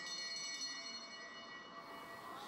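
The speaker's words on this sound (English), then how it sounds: "So there goes the bell." A bell rings at a cycling sprint race, a sustained metallic clanging tone that rings out and holds steadily, moderately loud with no talking.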